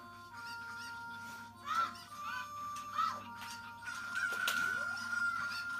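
A chicken in The Legend of Zelda: Ocarina of Time, perched on a fence, gives short bursts of clucking and a crow-like call amid steady game background music, with a few louder squawks toward the end.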